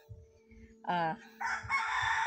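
A rooster lets out a short crow between low clucks from a hen, followed by squawking cackles, close by with a steady hum underneath.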